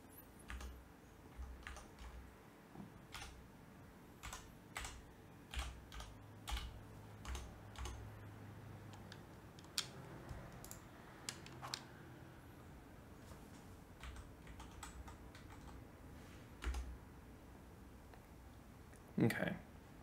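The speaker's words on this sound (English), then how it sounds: "just decided to sit on my keyboard" A cat sitting on and treading across a computer keyboard, pressing keys in scattered bursts of clicks and taps amid room noise, during a Cricket 22 gaming session; a person talks quietly at times.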